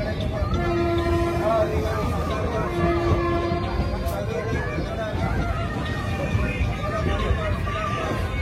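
A crowded Ganadevta Express passenger train rolls along with steady rumbling wheel and carriage noise, two sustained horn blasts sounding over it, while passengers chatter in a busy babble inside the coach.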